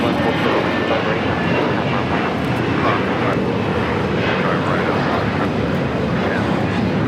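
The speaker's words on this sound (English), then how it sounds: "This is Delta Airlines 663 taking off to Detroit on the A321" A Delta Airlines Airbus A321 taking off at LAX, with a steady, loud broadband jet engine roar that holds at full power throughout, as heard from near the runway.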